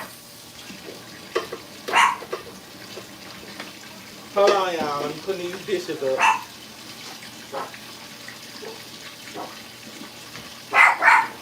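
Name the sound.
dog barking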